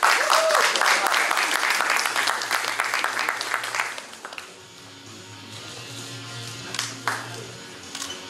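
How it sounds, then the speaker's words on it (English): A crowd at an M-1 Challenge MMA event applauds loudly for about four seconds, then the clapping fades to scattered claps over a low hum. "Round of applause for the man who makes this possible, the president of M1, Mr. Vadim Finkelstein."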